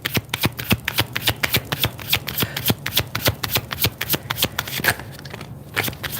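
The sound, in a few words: shuffling oracle cards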